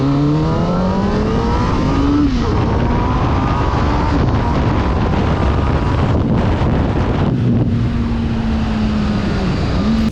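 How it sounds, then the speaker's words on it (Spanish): A CFMOTO 500 SR motorcycle engine runs and revs over strong wind noise, its tone rising and falling in pitch through gear changes for about ten seconds. "si quieren enamorarse un poco más de esta 500 SR, escuchen cómo suena este motor."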